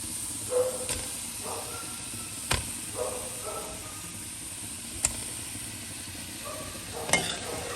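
Pieces of pomfret fish go into masala frying in a pan, giving a steady low sizzle and hiss with a few sharp taps and clinks of a utensil at intervals.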